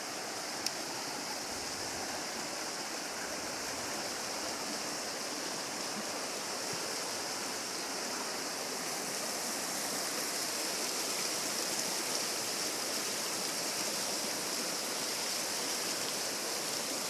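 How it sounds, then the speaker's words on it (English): Creek water flows steadily beside a free campsite, a continuous broadband rush that stays even and fairly close throughout, with no talk over it. "let's mosey on down to the creek and give you the soothing sounds"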